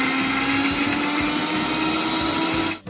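An electric mixer grinder whirs loudly and steadily as it grinds an onion and coconut masala for crab curry, then cuts off abruptly at the end.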